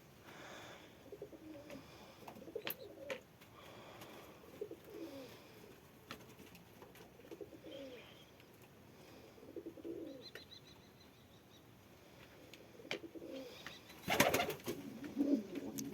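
Pigeons cooing indoors in a loft, a soft low repeated cooing that stays faint throughout, with scattered small knocks and a louder rustle or wing flutter near the end.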